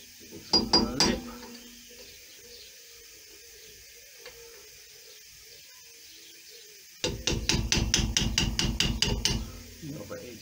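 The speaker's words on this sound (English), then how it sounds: "you get your chisel, just chisel slightly around the edges," Steel chisel struck repeatedly around the lip of a Peugeot 206 1.4 HDi rear brake drum: a few sharp metallic clanks near the start, a quiet pause, then a fast, loud run of about a dozen ringing hammer blows.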